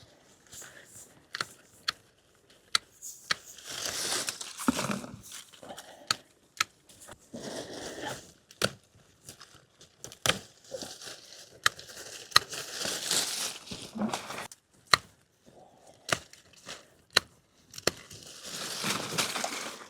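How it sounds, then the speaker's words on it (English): Japanese anemone stems in a garden container are cut back, giving sharp, irregular snips and crunchy rustles of dry foliage at close range with short pauses between cuts. "I'm now going to tackle the Japanese anemones here, and I'm going to be taking those right back to the compost level."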